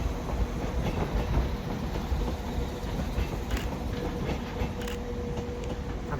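A Class 197 train rolls through Manchester Piccadilly station with a steady, broadband rumble and faint wheel clatter, continuous and fairly close, with no voices over it.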